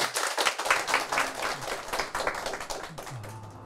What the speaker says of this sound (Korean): 큰 박수해 주시기 부탁을 드립니다